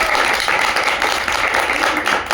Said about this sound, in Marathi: कारण अशा कथा आहेत त्यासाठी एकदा टाळ्या वाजवा बरं